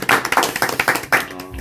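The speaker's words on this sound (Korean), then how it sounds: "박수." A handful of people clap together in short sharp bursts, several quick claps filling under two seconds, close and fairly loud with no talking.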